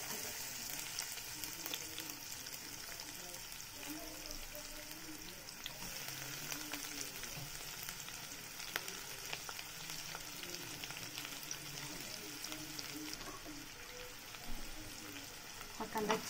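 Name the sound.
chopped onion frying in oil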